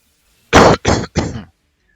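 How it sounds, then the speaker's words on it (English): Three quick, close coughs land right into a microphone, the first the strongest, with short pauses between them and silence on either side. "Gotta stop coughing into the mic"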